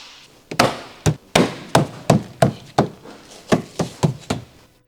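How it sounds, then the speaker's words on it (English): Firm taps pressing wheel arch molding clips into place on a 2011-or-later Ford Explorer fender, about a dozen sharp, close knocks in an irregular rhythm with no talking. "Once aligned, firmly tap the molding inward to secure it in place."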